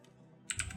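A short keyboard shortcut press during 3D modeling work in Blender, heard as a quick pair of close, faint clicks after a quiet moment.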